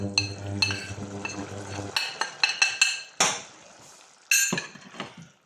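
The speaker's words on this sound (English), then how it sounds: "Give that a jolly good mix." A utensil stirs chilli, ground cinnamon and tikka curry powder in a pan for homemade chicken tikka masala, with close clinks and scrapes in an irregular rhythm after a brief steady hum.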